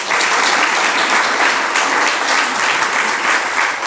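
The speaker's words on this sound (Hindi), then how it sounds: "ताली बजाओ ना" An audience gathered for a spiritual sermon claps together in a dense, continuous burst of applause, steady and fairly loud throughout.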